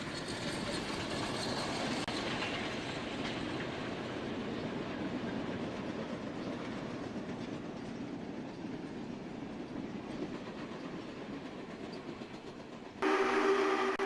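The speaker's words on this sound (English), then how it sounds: "This is going to be the next excursion locomotive." Excursion locomotive SPNS 901 on a test run along the Elk Valley rail line, rolling close by in a steady, loud rumble with clattering wheels, then a short horn blast sounding at the very end.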